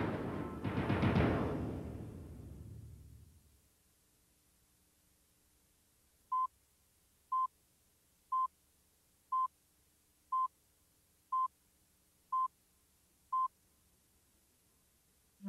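A telephone keypad dials eight evenly spaced DTMF beeps, about one per second, clear and isolated against near silence after a fading burst of noise.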